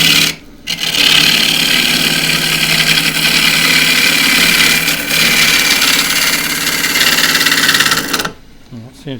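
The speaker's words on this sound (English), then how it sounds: "as always I will be roughing down with a 1/2 inch spindle gouge" Pistachio wood being roughed down on a lathe with a 1/2 inch spindle gouge while the bark comes off: loud continuous rasping and chattering cut over a motor drone, beginning and ending abruptly, with a voice faintly present.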